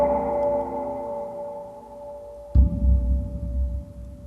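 A Sonixinema hang drum sample library played with the side articulation and the Distant Tones patch gives a sustained, fading metallic tone, then a soft low thump starts a deeper, murmuring resonance, with no voices.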